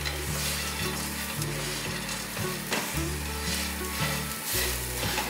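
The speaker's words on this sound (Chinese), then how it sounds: "这时候可以用中小火来炒杏鲍菇。" King oyster mushrooms stir-fried over medium-low heat, a dense steady sizzle close by with no talk, and a low humming tone running beneath it.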